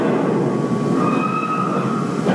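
Open coal hopper wagons of a CN freight unit train roll past steadily, a continuous rumble with faint wheel squeal tones rising mid-pass, close and loud with no talking.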